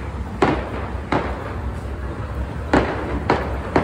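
Fireworks burst over a crowded city park, with several loud, sharp booms spread across a few seconds above a steady background of crowd noise.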